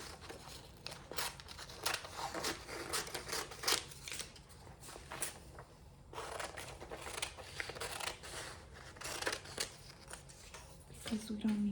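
Fabric is trimmed with scissors while excess material is cut away on a milestone blanket made with an MT-1501 machine and sash frame; rapid, rustling snips run in two long stretches, close by.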